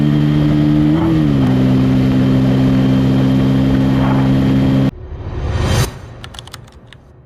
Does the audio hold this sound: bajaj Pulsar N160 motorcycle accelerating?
yes